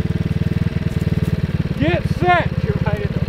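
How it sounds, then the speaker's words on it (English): A Honda ATC 70 three-wheeler with a swapped-in 140cc engine idles nearby with a loud, rapid, steady putter, while people speak briefly over it. "let me just fire up my vehicle without breaking sweat"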